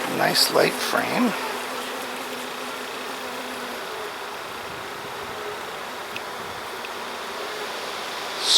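A honeybee hive being inspected, its frame crowded with drone bees, gives a dense, continuous buzz close by, with a few louder passes from individual bees near the start and a steady hum throughout.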